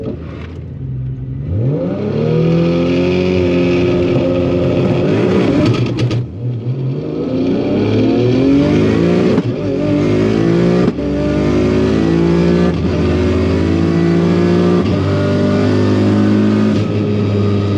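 A Ford Mustang GT350 fitted with a Barra straight-six, tuned past 1000 wheel horsepower, launches down a drag strip, its engine roaring loud and continuous as it revs up through gears with a brief dip at a shift.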